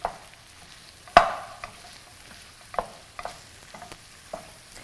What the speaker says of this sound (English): I've got some country-style sausage that I am going to brown up